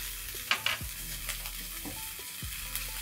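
Onions, garlic and ginger fry in a pan, with a low steady sizzle under spoon scrapes and stirring clatter that come in a few louder bursts, with no talking.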